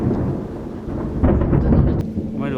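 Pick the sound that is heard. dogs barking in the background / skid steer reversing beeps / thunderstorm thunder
thunderstorm thunder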